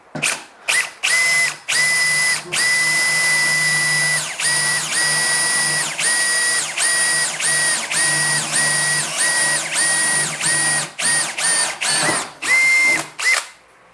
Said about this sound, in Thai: มาดูในส่วนของการเจาะเหล็กกันบ้างครับ